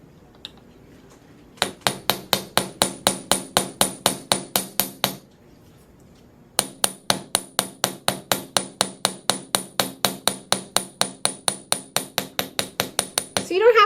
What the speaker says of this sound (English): I'm going to start hammering the wire again.